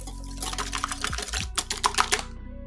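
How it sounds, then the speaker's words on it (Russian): A whisk beating eggs with sugar and a pinch of salt in a bowl, giving quick close clicking and tapping strokes in an irregular rhythm, with light wet sounds. "Все немного взбиваем венчиком до однородности."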